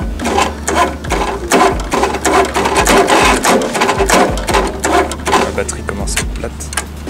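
A car engine runs at a rough, pulsing idle, close and loud, with an uneven mechanical rhythm and a voice speaking over it.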